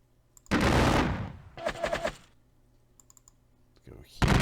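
Rifle volleys in a Civil War strategy video game set at the Battle of Perryville. Two loud bursts of crackling fire come near 0.5 and 1.6 seconds, with a faint hum between them and a brief voice at the end.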